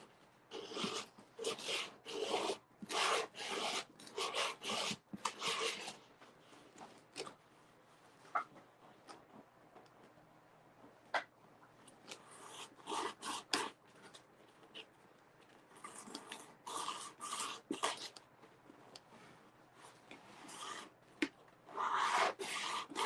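Putty on a model tugboat is sanded by hand in close, scratchy bursts of rubbing strokes, some rapid and dense and others sparse, with short pauses between them.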